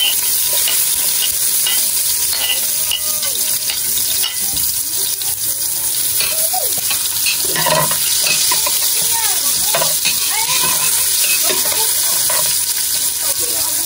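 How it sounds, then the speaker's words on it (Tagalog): Onion and ginger fry in hot cooking oil for a native chicken tinola, a loud, steady, close sizzle that runs throughout, with occasional stirring scrapes on top. "Maglalagay na po ako ng mantika. Lagay ko na po itong sibuyas at luya."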